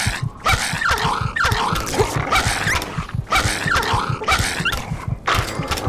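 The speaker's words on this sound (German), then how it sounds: "Alter, diese Hunde gibt's ja überall hier." Dogs in Fallout 3 snarl and growl in repeated aggressive bursts, roughly every second, loud and close over a steady low game rumble, with no talking.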